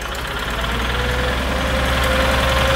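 Small engine of an underwater-digging excavator's power plant idling steadily, a loud close droning hum with a constant low pulse and no speech over it.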